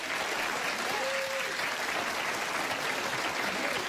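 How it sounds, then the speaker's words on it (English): Steady applause from a studio audience on a talk show, a continuous dense wash of clapping held at an even level for several seconds. "Now, by applause, would you ladies swipe right and go out with Adam?"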